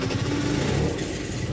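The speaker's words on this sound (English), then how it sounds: "As soon as my bike starts." A motorbike engine runs with a loud, rough, continuous rumble close by, with no speech.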